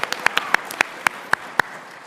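Scattered, sparse clapping from a small convention audience at a game show: a handful of separate sharp claps spread unevenly over about two seconds, fairly close, with no talk.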